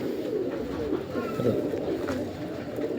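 A large, mature pigeon of a prized breed coos softly in low repeated murmurs, close but quiet, with faint background noise and a little indistinct talk.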